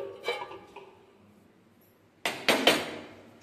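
A frying pan is set down on a stove while an omelette is being made, giving two close metallic clanks: a light knock near the start and a louder double clatter near the end, with quiet between.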